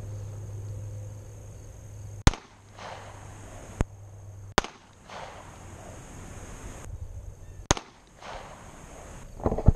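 A .40 caliber concealed carry pistol fires at a shooting range, giving about five sharp, separate gunshots spaced a second or two apart, each cracking loudly over a quiet, faintly buzzing background.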